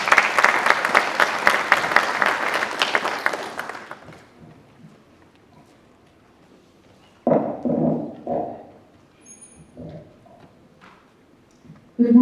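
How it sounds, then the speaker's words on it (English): A graduation crowd claps for a speaker in a burst of steady applause lasting about four seconds, then it fades out, leaving quiet room noise and a few scattered thumps and shuffles. "A clap for her."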